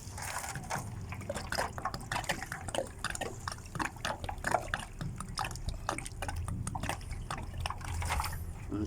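Water is poured gradually at the base of a chili plant in a garden, a close continuous trickle and splatter with irregular drips, alone without voices.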